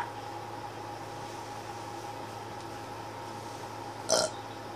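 A single short burp stands out near the end of a quiet passage over a steady low background hum.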